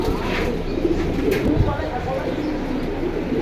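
Pigeons at a market pigeon sale make soft cooing under a busy background of murmuring people and general crowd noise.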